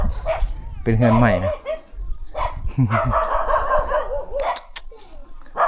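Several dogs bark and yip in a rural mountain village in Vietnam, loud and repeated in uneven bursts, mixed with someone talking nearby.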